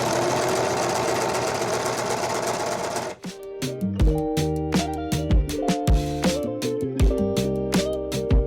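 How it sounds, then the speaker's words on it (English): An old serger sewing machine runs in a sewing room, a rapid mechanical chattering whir in short bursts after a stretch of broad noise, its rhythmic stitching pulses close and distinct. "This is a really old serger."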